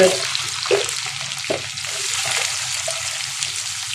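Onions, chana dal and dried chillies frying in a pan for a Tamil potato gravy, a loud steady sizzle with occasional stirring scrapes.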